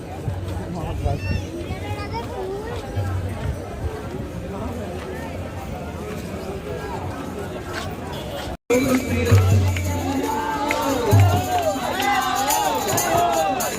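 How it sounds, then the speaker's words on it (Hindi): Dense crowd gathered in a street in Barsana, a steady hubbub of many voices at close range throughout, with people talking nearby and a brief cut midway. "जगह तो भीड़ खड़ी है"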